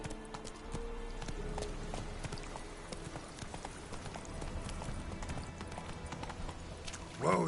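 Roach the horse's hooves clip-clopping in The Witcher 3, a steady galloping rhythm of hoofbeats running throughout at moderate level, with a voice briefly heard near the end.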